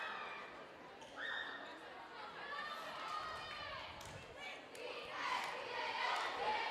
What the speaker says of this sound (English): the JV and freshman teams cheering on their varsity counterparts